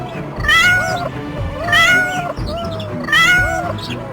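A black cat meows three times, each a loud, drawn-out wail at an even spacing, close and clear against a low rumbling background.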